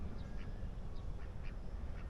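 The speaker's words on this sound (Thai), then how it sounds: "รู้สึกว่าจะเป็นเจ้าเป็ดนะครับ ตัวสีขาวเนี่ยนะ" A white duck quacks at a small pond in Queen Sirikit Park, Bangkok, giving about six short nasal calls spaced at a fairly even pace over steady low outdoor hum.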